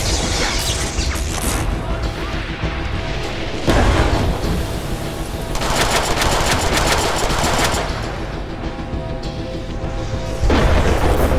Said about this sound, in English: A machine gun!